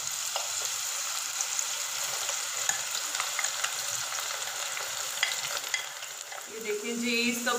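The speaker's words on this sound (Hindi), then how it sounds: "जो दाल हमारी ड्राई हो गई थी उसको हमने इसमें फ्राई होने के लिए डाल देना है" Dried moong dal frying in hot oil on medium-high heat, a steady dense sizzle with crackling bubbles that holds throughout and swells slightly near the end.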